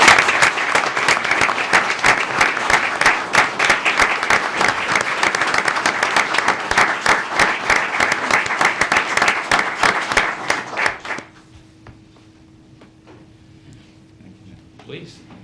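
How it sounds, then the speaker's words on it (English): A roomful of people at a city council meeting applauds warmly for about eleven seconds of dense, steady clapping, which then stops abruptly, leaving a quiet room with a faint hum. "let's give these guys a round of applause"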